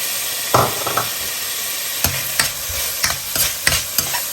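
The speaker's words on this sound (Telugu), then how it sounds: "సో క్యాప్సికమ్ కూడా ఎక్కువ ఫ్రై అవ్వకూడదు అనమాట లైట్గా ఫ్రై అవ్వాలంతే" Capsicum pieces for chilli chicken fry in a pan with a constant, loud sizzle, while a spatula scrapes and stirs repeatedly at irregular intervals.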